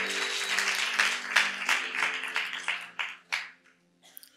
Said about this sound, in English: If you're happy about your local church, clap your hands.